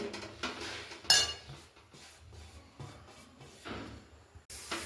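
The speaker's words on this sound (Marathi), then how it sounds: "तर मी आता हे व्यवस्थित मिक्स करून घेतले" Sesame mixture for til vadi being stirred in a kadhai with a spoon, giving scattered scraping and clinking of metal, including one sharp clink, over quiet kitchen background.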